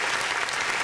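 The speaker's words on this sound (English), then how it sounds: "Round of applause real quick, Steve." A quick burst of dense applause in a podcast studio setting, close and even, lasting under a second.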